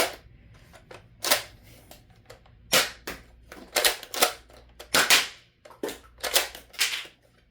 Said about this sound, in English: I'm going to do slam fire now.